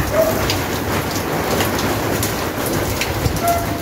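Steady rain patters down continuously during an outdoor barbecue, a dense hiss of drops on a surface with a faint low rumble underneath and no voices.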